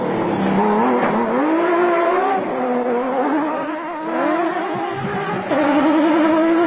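Off-road race trucks, including a 3.5-litre V6 Nissan hardbody, roar past in a South African off-road race, engines revving and shifting pitch loudly and continuously, rising and falling as they accelerate, with no talk.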